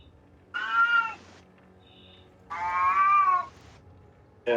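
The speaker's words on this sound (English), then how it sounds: "Yes, that's my loud cat." A loud house cat meows twice in long, drawn-out, wavering calls, each about a second long, with a short pause between them. A third meow starts just as the sound cuts off, and no one talks over it.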